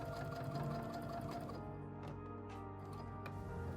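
Sewing machine running steadily as it stitches extra quilting lines along a seam on a bandana fabric pen pouch, a continuous close mechanical whir with fine rhythmic ticking and no talk.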